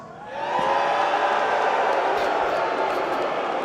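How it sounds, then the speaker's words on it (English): Crowd at the IEM Dallas 2025 esports tournament cheering for a team, a swelling roar of voices and whoops that builds quickly and holds, fairly loud in a large hall. "Dallas, who's cheering for Maus?"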